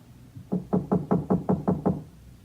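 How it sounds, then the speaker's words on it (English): Knocking on a door as a radio drama sound effect: a quick run of seven even, hollow raps, close and distinct, with no voices. "But nobody answered my knock."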